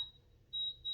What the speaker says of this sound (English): So that was the alarm.